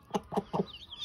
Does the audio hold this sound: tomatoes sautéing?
no